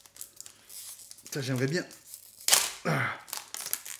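Crinkly tearing of a Japanese Pokémon 25th-anniversary promo booster pack's foil wrapper, heard in a couple of short, close, sharp bursts between stretches of someone talking.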